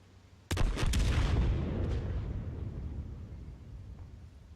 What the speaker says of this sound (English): Now that's the sound of a dead tank blowing up.